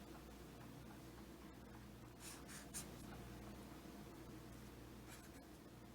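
A pen scratches out a chemical formula by hand, soft scraping strokes in short bursts, faint and close, with no talking.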